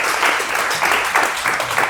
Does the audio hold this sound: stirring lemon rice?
no